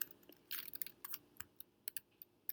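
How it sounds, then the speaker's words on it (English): Quiet clicking of a computer keyboard as HTML is typed into Visual Studio Code, irregular taps and short bursts, fairly faint with no voices. "we can do that by typing"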